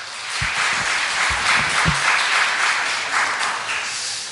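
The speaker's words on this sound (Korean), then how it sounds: "우리 허정윤 그리고 정수현 성도에게 큰 격려의 박수 부탁드립니다." A crowd applauds steadily for several seconds at a Sunday church service, a dense wash of clapping that holds at an even level throughout.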